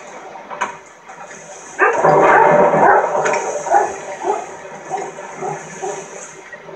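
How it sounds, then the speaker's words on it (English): Dogs barking and whimpering at home alongside a loud flushing, rushing water sound in the middle, with yips scattered through the later part. "my dogs are barking"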